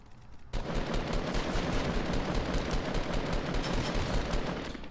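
Rapid automatic gunfire from the video game Fortnite, played on mobile, rattles out in a dense continuous burst after a brief quiet start, loud and steady for several seconds.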